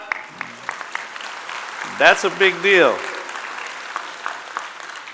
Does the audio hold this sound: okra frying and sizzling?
no